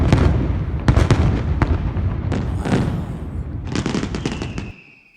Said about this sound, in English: here's the fireworks, Barbara.